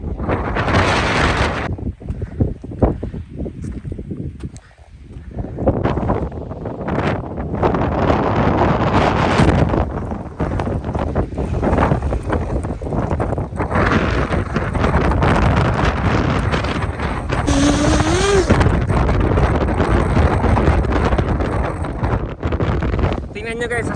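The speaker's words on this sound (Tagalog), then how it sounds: "Tingnan nyo guys, sa sobrang lakas ng hangin." Strong gusting wind on the summit of Mt John buffets the microphone in heavy roaring waves, with brief lulls between blasts; a voice speaks faintly beneath the rush.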